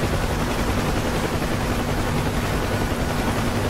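A Bell UH-1 Huey helicopter flies through gale-force winds in the DCS combat flight simulator, making a loud, steady roar of rotor and engine noise without a break.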